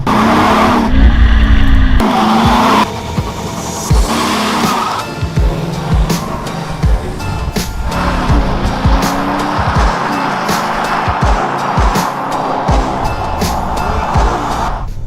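A Maserati Ghibli diesel saloon on the move, its engine rising and falling through gear changes under loud road and wind noise, with occasional tyre scrubs and thumps, heard from close by throughout.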